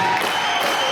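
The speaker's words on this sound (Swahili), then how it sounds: "Sasa tunawakaribisha kwa makofi 1 2 3." A church audience claps in a brief, dense burst of applause to welcome performers, steady and close throughout.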